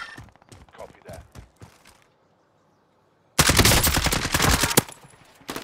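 Gunfire in Call of Duty: Modern Warfare, with scattered sharp single shots and short bursts, then a pause of near silence, then a loud, close fusillade of rapid automatic fire.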